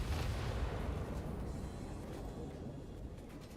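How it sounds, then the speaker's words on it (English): Nuclear explosions in the video game Satisfactory roar as a dense, low, rumbling blast that starts loud and slowly fades without a break. "Glorious nuclear explosions."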